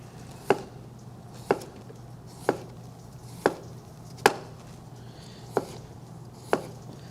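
Sharp kitchen knife slicing through food on a cutting board, seven crisp, evenly spaced thuds about a second apart, close and quiet against a low background hum.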